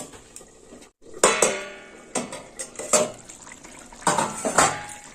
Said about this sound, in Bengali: এবার চাপা দিয়ে দেবো।